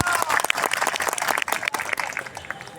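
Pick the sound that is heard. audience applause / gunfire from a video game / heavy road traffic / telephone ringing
audience applause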